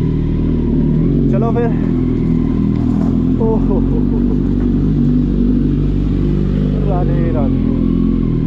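A loud Kawasaki Z900 motorcycle engine idles and revs up close, with short throttle blips; someone speaks briefly over the rumble.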